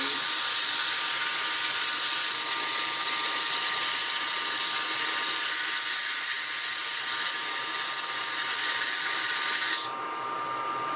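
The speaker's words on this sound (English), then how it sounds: "I'm going to go ahead and sand this slightly." Sandpaper held against a wooden bowl gouge tool handle spinning on a lathe gives a steady, even hiss over the motor's hum, then drops abruptly near the end as the sanding stops.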